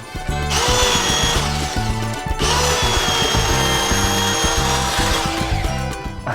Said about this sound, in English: I'm trying the handsaw, the tenon saw, and I can only do so much.